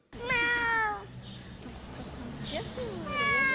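A cat stuck up a tree for days and weakened meows clearly and repeatedly, drawn-out cries near the start and end, with someone speaking between them and outdoor background noise.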